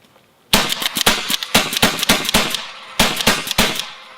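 A Lapco Ghost fitted with a Palmer's Tornado semi-automatic kit fires a rapid string of loud, sharp gunshots outdoors, two bursts of cracks separated by a short pause.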